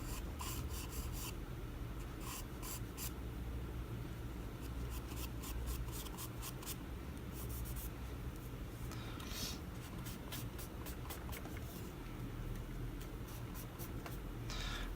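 The side of a charcoal pencil shading on paper, a continuous close scratchy rasp of rubbing strokes with faint tapping ticks scattered throughout, steady and quiet with no voices.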